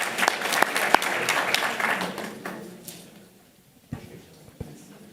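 A school board meeting audience applauds the Judson High School JROTC color guard, a full round of clapping that thins out over about three seconds, followed by a few scattered single claps in a quieter room.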